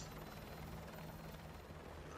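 Steady, dense rotor thump and engine roar of a military helicopter in the Modern Warfare 2 campaign remaster, continuous and close for a couple of seconds with no voices over it.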